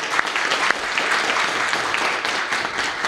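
A crowd claps at a municipal election campaign event presenting council candidates in Biała Podlaska commune, Poland: sustained, even applause from many hands, fairly close and loud, with no speech over it.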